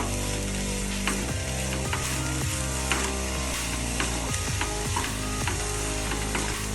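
Fennel seeds and garlic fry in a pan for a cassava stir-fry, giving a loud, constant sizzle close up, with repeated scraping clicks of stirring over it.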